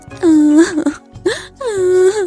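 A voice actor imitates a cartoon kite crying loudly in two long, drawn-out wailing sobs with a short catch of breath between them, close and loud.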